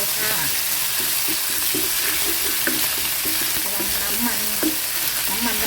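Thai chili paste spits and splatters as it is stir-fried with shelled clams in a hot pan. There is a loud, continuous close-up hiss with rhythmic spatula scrapes and knocks against the pan.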